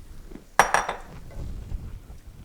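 Seasoning is dumped into a pan of meat for egg roll in a bowl: a sharp clink of a bowl against the pan, then soft pouring and rustling as it lands, with no talk.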